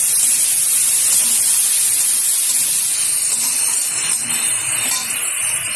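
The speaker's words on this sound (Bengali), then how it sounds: "এবার নাড়িয়ে নেব।" Chopped banana stem and papaya with turmeric cooking in a pan give off a steady, loud steamy hiss that fades slightly toward the end, with faint stirring beneath.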